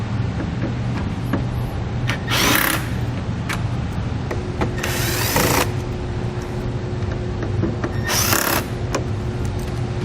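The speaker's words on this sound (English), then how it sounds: "Then remove the 6 T15 Torx screws from the top of your grille." A power driver backs out T15 Torx screws along the top of a 2018 car's grille: three short whirring bursts spaced a few seconds apart over a steady background hum, close and fairly loud.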